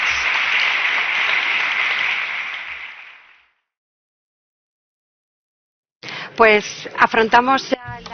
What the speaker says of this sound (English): So I will ask for a round of applause for our panelists.